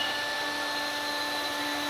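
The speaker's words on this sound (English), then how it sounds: "Here the router table will drill the holes for the hinges, and it'll also drill the lock holes." A factory router table drills hinge and lock holes in tonneau covers, producing a steady, loud high-pitched whine with a constant tone and broad rushing noise.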